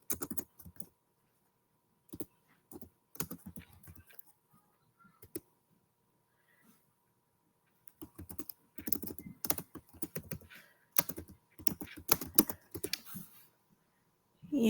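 Bursts of computer keyboard typing, close and fairly quiet, with pauses between runs of keystrokes and denser clatter toward the end.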